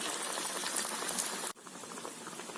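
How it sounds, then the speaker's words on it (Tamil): Aloo tikki patties fry in oil over a medium-low flame, a dense steady sizzle that briefly cuts off and then resumes slightly quieter. "இப்போ நம்ம பேட்டிஸை போட்டு மீடியம் லோ ஃப்ளேம்லேயே வச்சு இதை ஃப்ரை பண்ணலாம்"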